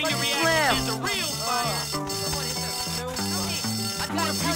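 A loud fire alarm rings in the Bully video game, a continuous buzzing bell under in-game dialogue and music in a school dormitory during a fight.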